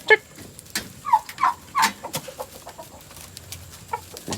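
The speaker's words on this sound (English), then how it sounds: "You got some for the chickens there?" Chickens cluck and squawk in short, scattered bursts, a few birds calling close by with brief gaps between calls, and no talking.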